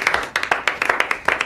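Hand clapping from a few people in an FBI investigation office celebrating a colleague's breakthrough, with close, crisp claps landing in an irregular run across a second and a half.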